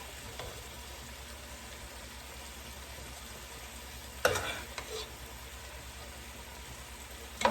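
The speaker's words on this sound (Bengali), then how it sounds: "আমি এখন উঠে নিতেছি হালকা করে একটু ভেজে নিচ্ছি পাঁচফোড়ন দিয়ে আর একটু হলুদ দিচ্ছি" Vegetables frying in oil with panch phoron and turmeric for vegetable khichuri, a steady soft sizzle with occasional stirring scrapes, close and alone with no talk.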